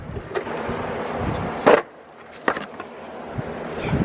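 A plastic fan shroud is pulled up out of a BMW E46 engine bay, with close scraping knocks and one sharp clunk partway through, then lighter rattles.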